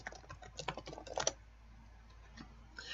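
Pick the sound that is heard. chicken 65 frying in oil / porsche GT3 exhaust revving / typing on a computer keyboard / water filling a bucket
typing on a computer keyboard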